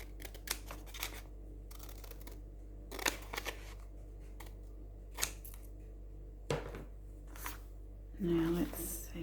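Several short, crisp snips of long scissors cutting paper invoices, spaced irregularly, with faint rustling of paper in between and a brief soft thud near the end.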